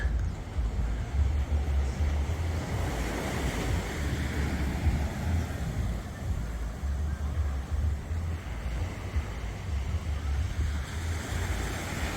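Waves washing onto Darkwood Beach in Antigua, a steady rolling surf mixed with wind buffeting the microphone, continuous and fairly loud with no voices.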